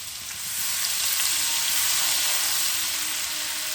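Chopped onion hits hot oil with whole spices and sets off a loud, close, continuous sizzling hiss that stays steady throughout.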